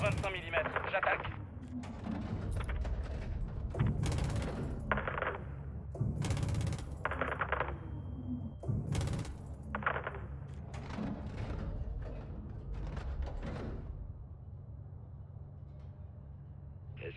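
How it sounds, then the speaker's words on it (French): Bursts of rapid 25 mm cannon fire in Call of Duty: Modern Warfare 2, several short volleys in an uneven rhythm, mixed with French radio-style chatter between shots. "Canon 25 mm, j'attaque."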